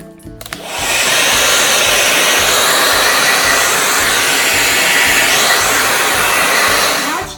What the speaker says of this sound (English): our amazing hair dryer that is used for tons of different things